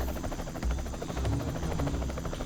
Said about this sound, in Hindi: वो देखो, हेलीकॉप्टर।